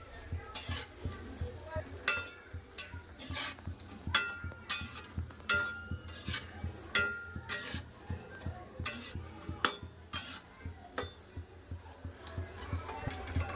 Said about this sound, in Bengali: বড়িগুলো খুব ভালো করে লাল করে ভেজে তুলে নেব